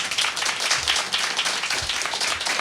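Applause from an audience at a French awards ceremony, a steady wash of many hands clapping at moderate loudness for the full stretch with a faint voice low underneath.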